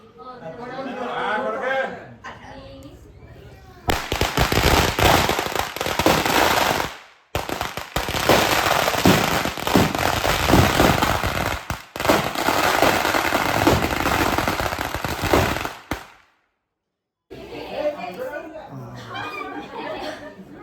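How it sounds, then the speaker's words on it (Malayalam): Firecrackers bursting at a night church feast, long rapid strings of loud crackling bangs in several bursts separated by short gaps, with crowd chatter before and after. "പടക്കം പൊട്ടിച്ചോ?"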